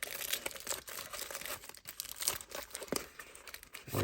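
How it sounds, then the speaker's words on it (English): Tape peels and crinkles off the plastic and cardboard packaging of a Star Wars Vintage Collection Ahsoka Tano deluxe action figure, close and quiet, in irregular crackly bursts with brief pauses, and no one speaks. "Let me just pop that tape off there."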